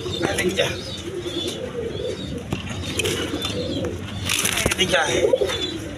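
Orange chila pigeons, a pair kept with two chicks, coo in low rolling bursts at close range while someone talks over them and scattered clicks and rustles sound.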